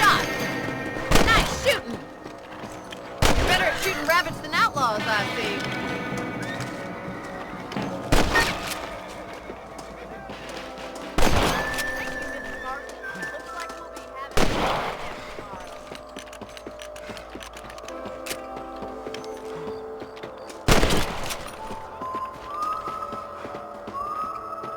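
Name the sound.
rifle shots at rabbits in Red Dead Redemption video game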